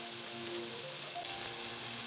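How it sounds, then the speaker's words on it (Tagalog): Onion, garlic and ginger sautéing in oil, a steady soft sizzle that stays even throughout, heard alone at fairly low level. "Dagdagan pa po natin ang oil para mailisan natin ng maayos ang ating sibuyas"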